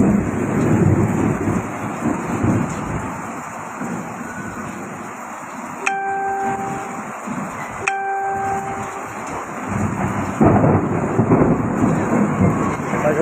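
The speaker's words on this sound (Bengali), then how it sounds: "দেখতে পাচ্ছেন, শুনতে পাচ্ছেন যে কি পরিমাণ বজ্রধ্বনি।" Thunder rolls during a Kalbaishakhi rainstorm, a continuous heavy rumble over the steady hiss of rain, with a few sharper cracks and surges standing out.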